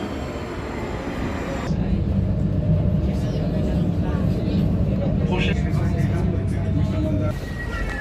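A train running on rails, a heavy rumbling roll that swells after a quieter start and holds steady, with voices faintly present under the noise.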